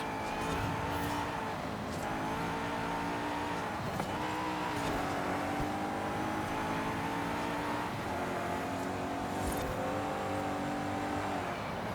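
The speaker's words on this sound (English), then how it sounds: "the car now accelerates in a very good pace, and yeah, it even reaches some pretty good top speed" An Ascari KZ1R race car in a Forza Horizon 5 race, its engine note climbing through gears in repeated rising sweeps, loud and close with a steady buzzing drone and no talk over it.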